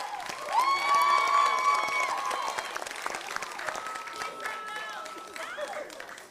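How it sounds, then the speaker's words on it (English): Audience applause at a Bible Bowl quiz event, a loud burst of clapping and light cheering that swells at the start and then tapers off gradually while a voice carries on over it. "Let's give them a hand."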